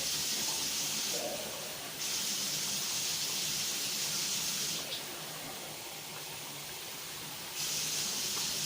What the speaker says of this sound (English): Have some more water because they're boiling dry.